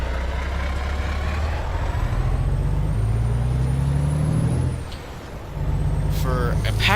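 A Kenworth T800 truck with a Packard engine in American Truck Simulator rumbles steadily at idle, with a brief hiss of air brakes near the end, while a voice talks over it.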